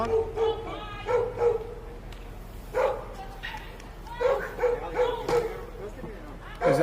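A dog barks and yips in short repeated bursts near a police standoff outside apartments, mixed with people talking at a distance over steady background noise.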